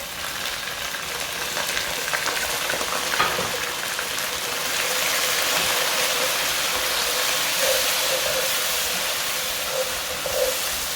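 Browned onions frying with ginger garlic paste in a pan, a steady loud sizzling hiss that holds evenly throughout with a few faint crackles.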